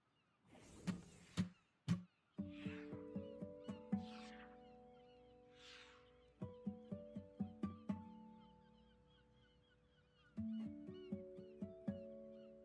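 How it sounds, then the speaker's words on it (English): Seagull calls in a video game island setting: a few mewing cries drift in the background amid plucked, tonal music notes and sharp percussive hits. "Man, listen to the seagulls. It's awesome."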